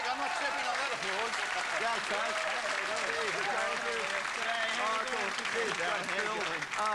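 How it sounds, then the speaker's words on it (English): Studio audience applauds loudly and steadily at a Hey Hey It's Saturday taping during a Human Nature appearance, a dense wash of clapping and cheering voices throughout the seven seconds. "I'm not stepping on that applause."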